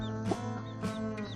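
A mother hen with her newly hatched chicks gives low, steady clucks, nearby and fairly quiet, while the chicks' thin high peeps come through at intervals.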